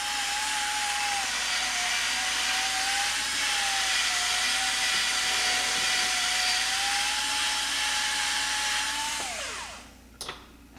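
A power tool cuts down a brass cartridge case for 300 AAC Blackout, a loud, steady whine with a faint high tone that runs for about nine seconds before winding down and stopping, followed by a brief clatter.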